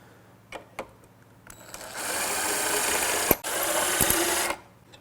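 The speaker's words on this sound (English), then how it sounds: "I'll just drill a little hole to get it started" A small power drill whirs steadily for a couple of seconds boring into oak, briefly dips, then runs again before stopping, with a few clicks and knocks around it.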